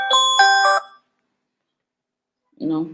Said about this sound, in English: oh my god, my alarm